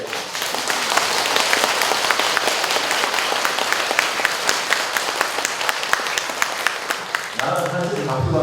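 An audience at a Buddhist Dharma talk claps steadily and loudly for several seconds. The applause then gives way to a voice speaking near the end.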